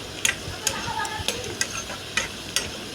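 Potatoes frying in a home kitchen pan, soft sizzle with regular stirring or scraping clicks about every half second, close and moderately quiet, no talking.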